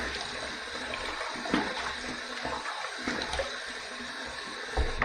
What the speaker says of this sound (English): Let's wet the face.